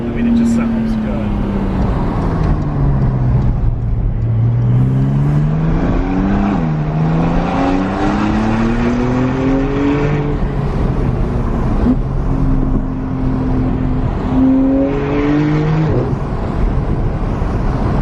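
Engine of a 2020 Porsche 992 Carrera 4S driven in sport mode, a loud steady drone with rising and falling revs through several gear changes, with talk over it.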